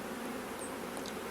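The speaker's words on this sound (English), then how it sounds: "listen to the sound of the bees" Bees swarm around a beehive in a steady, dense buzzing drone, close and continuous with no talk over it.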